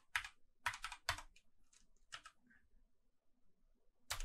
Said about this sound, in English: Just to rerun the analysis, we type the following codes.